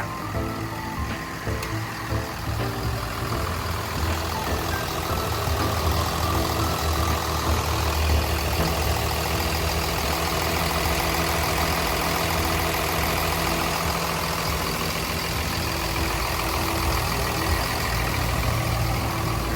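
A Komatsu WA320-8 wheel loader's diesel engine idles steadily at close range, a low, even rumble with a faint mechanical whine, continuing unchanged throughout.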